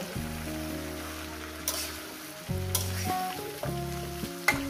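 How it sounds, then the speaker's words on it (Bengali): Vegetarian vegetable chorchori cooks in a pan with a continuous sizzle and occasional sharp stirring scrapes, over a steady low tonal hum that drops out briefly and returns. "বন্ধুরা দেখুন বন্ধুরা কিভাবে চচ্চড়িটা রান্না করছি"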